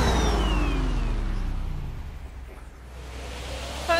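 A car's turbo boost in the Fast & Furious Spy Racers racing game: a loud, close engine roar whose pitch falls away, easing into a rougher rumble before a sharp surge at the very end.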